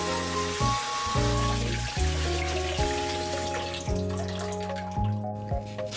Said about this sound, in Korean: 마지막으로 흐르는 물에 씻어주세요